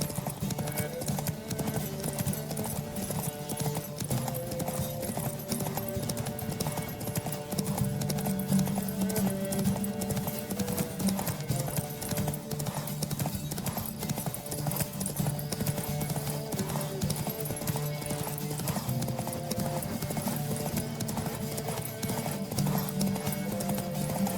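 Steady, rapid clip-clop of several horses' hooves in a horse race in The Witcher 3: Wild Hunt, with an occasional whinny over a continuous dense rumble and background music.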